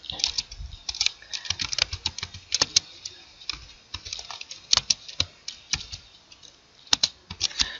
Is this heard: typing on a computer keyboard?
yes